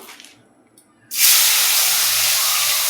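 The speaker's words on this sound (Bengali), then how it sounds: "তেলটা একটু কম হয়ে গেছে বাবার এত গরম হয়েছে চুলা এখন এই যে পেঁয়াজগুলো দিয়ে দিই" Onions dropped into hot oil in a pan on a stove burst into a loud, sudden sizzle that stays steady to the end, after a quiet stretch with faint kitchen noise.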